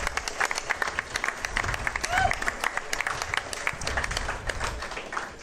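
A live audience at Rick's Cafe in Starkville gives a lively round of applause, uneven bursts of clapping with a few whoops and crowd murmur, moderately loud and sustained.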